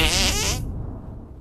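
A buzzing, raspy cartoon fart from the video game South Park: The Fractured But Whole, loud at the start and fading into a low rumble within about a second.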